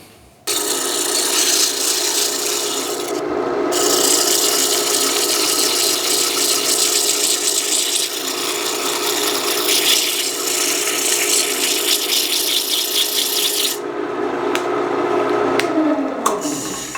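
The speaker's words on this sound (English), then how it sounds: "I'm just going to use my sandpaper and just kiss it and gradually just round it over" Sandpaper rubbing against the spinning edge of a wooden bowl on a lathe, rounding it over: a steady, loud broadband rasping hiss that runs almost continuously, with a couple of brief breaks and a rough, ratcheting texture, no talking.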